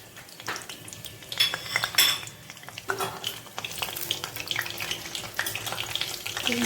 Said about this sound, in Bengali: আমি প্রথমে তেল গরম হলে জিরা, দারচিনি, এলাচ ফোড়ন দিলাম